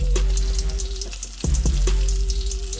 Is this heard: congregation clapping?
no